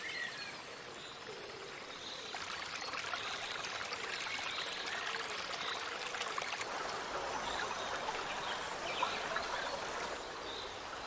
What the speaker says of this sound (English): High in these hills, a tiny brook springs to life,